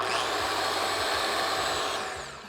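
A food processor blends a thick sauce smooth for a savory Mexican breakfast, a steady close whirring motor hum that runs continuously and fades slightly at the end, with no talking.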